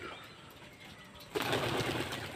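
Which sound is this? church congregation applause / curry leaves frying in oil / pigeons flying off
pigeons flying off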